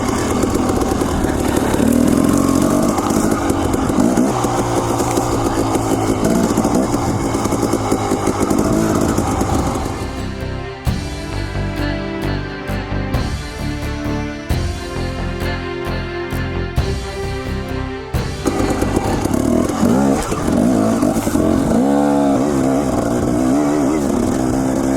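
An adventure motorcycle climbs a long, steep dirt trail, its engine loud and close, revving and labouring continuously, with a stretch of choppier throttle changes midway before pulling hard again.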